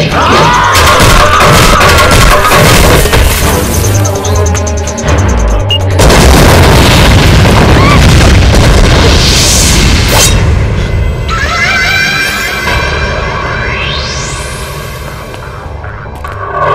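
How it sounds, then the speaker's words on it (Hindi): A bomb blast in a Bhojpuri action film, a loud booming explosion with a dense roar and crashing debris that stays heavy for most of the stretch, set against a dramatic music score. "हमारी बहन को बम से उड़ाएगा कमीना कहीं का।"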